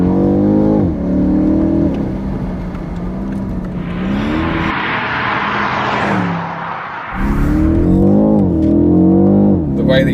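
A new BMW 8 Series xDrive accelerates hard away from a junction, a rising engine roar with gear-change steps heard from inside the cabin, loud and close.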